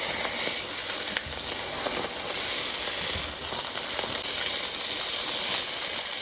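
Salmon pieces searing in melted butter in a pan, a loud, even hiss and crackle that holds unbroken, with a few small spatters rising above it.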